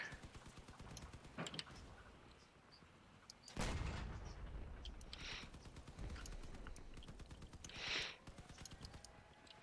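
Gunfire in the vehicle combat game Crossout: a few heavy, booming shots spaced several seconds apart, the loudest near the middle, over a constant rumble of engines and machinery.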